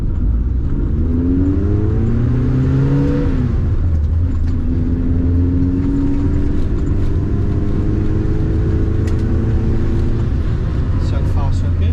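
A Renault R8 drives along, its engine note rising as it accelerates through gears with a steady road rumble, heard from inside the car while someone talks.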